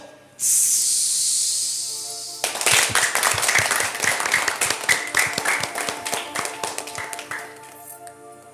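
Children clapping to welcome a guest, a burst of dense, lively applause that follows a long loud hiss, then gradually thins and fades over several seconds.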